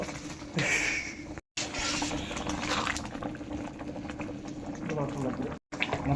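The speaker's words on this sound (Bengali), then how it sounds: "এখন জল দেওয়া হবে সেদ্ধ হওয়ার জন্য" Water pouring into a cooking pot set to boil, a continuous splashing, gurgling rush up close, cut by two brief dropouts, with a voice talking over part of it.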